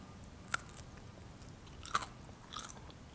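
Crisp bites and crunchy chewing of plant-based bacon with a crunchy edge, three distinct snaps spaced about a second apart, close and clear over a quiet background.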